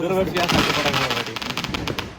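Diwali firecrackers burst at a home in Maharashtra in rapid, sharp cracks against a background of people talking, with loud popping in quick succession toward the end.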